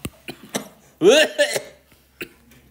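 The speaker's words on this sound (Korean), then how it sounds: "이쯤에 기침을 한다" A single close, harsh cough burst stands out in the middle, with faint clicks and tapping before and after it.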